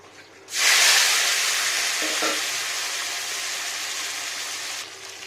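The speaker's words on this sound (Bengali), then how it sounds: "তেল দিয়ে চিংড়িটাকে আগে ভেজে নেব" Prawns drop into hot mustard oil in a wok and burst into a loud, sudden sizzle that holds steady for several seconds, then eases slightly, close and alone.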